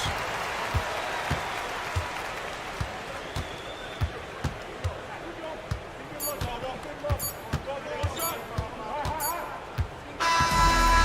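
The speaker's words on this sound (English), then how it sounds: "So the home crowd happy here as they get the victory." A basketball arena crowd roars and applauds after a home-team win, with regular ball bounces thudding on the court beneath the swelling noise and a commentator talking over it.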